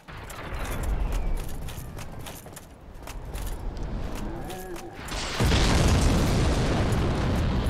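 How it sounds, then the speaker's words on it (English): Bombs thrown by a giant burst in Dark Souls Remastered, several loud booms in a row with a rumbling bed of game sound, ending in a heavier, sustained blast that roars on to the end. "Billy likes to throw bombs at people."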